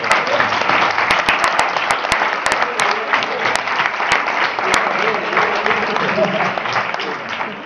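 A studio audience at a Spanish TV presentation show applauds loudly and steadily for the world's best footballer, with a full crowd of clapping and a few sharp clicks over it, and voices heard faintly underneath.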